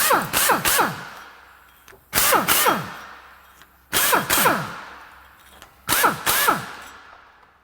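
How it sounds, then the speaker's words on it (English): Air tool fitted with a pop-on abrasive pad cleaning the metal surfaces of a brake hub while servicing a floating caliper brake setup; four loud, close bursts of high whine about two seconds apart, each spinning up and down in pitch. "Stick it onto an air gun and then pop it over there."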